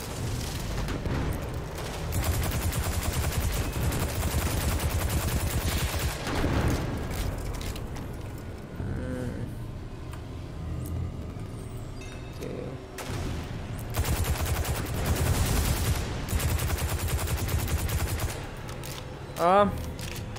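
Bursts of rapid gunfire and booms from the video game Destiny 2 come in dense volleys, pausing briefly midway before resuming, with a rising electronic whine near the end.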